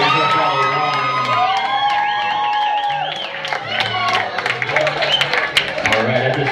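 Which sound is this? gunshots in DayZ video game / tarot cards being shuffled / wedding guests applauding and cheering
wedding guests applauding and cheering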